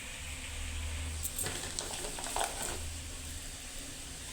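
Garlic frying in a pan with sautéed bottle gourd: a steady, quiet sizzle with faint patter and stirring scrapes, heard alone without talk.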